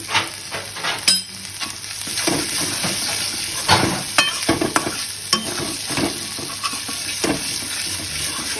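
Fish curry masala with turmeric and chili powder sizzles in a pan while being stirred, a loud continuous fry hiss broken by repeated spoon scrapes and clinks at an uneven pace.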